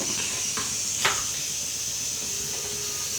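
Tuna head curry with tamarind water heating in a pot toward a boil; a soft, steady hiss fills the background with a few faint clicks and one slightly louder tap.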